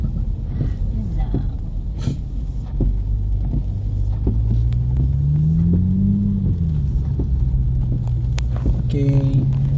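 A Toyota Supra sports car drives along with a low, steady engine rumble that rises in pitch as it accelerates and then settles, with wind buffeting the microphone and occasional clicks over the drone.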